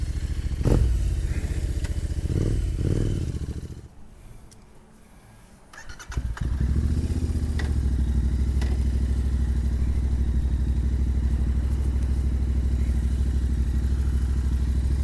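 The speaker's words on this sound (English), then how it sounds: "Let's take this low-powered bike" A Royal Enfield Continental GT motorcycle engine catches after a few clattering attempts, then settles into a steady, loud, close-up idle with a low thumping rumble that carries on alone.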